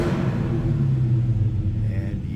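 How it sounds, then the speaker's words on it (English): 2015 Dodge Challenger SRT Hellcat idling with a deep, steady low rumble, close and continuous with no talking. "And yes, it sounds like a Hellcat."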